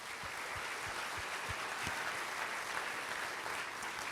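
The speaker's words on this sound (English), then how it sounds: "a huge round of applause for all of our sponsors" An audience at the 100th Rose Queen announcement and coronation gives sponsors a sustained round of applause, a thick continuous clatter of many hands with no voices over it.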